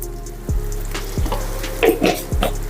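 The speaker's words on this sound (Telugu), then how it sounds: "ఇవన్నీ బాగా కలుపుకుందాం మనం." Sherva ingredients being stirred in a frying pan, with a few distinct scraping strokes of a spoon against the pan over a soft steady sizzle, close up and with no talking.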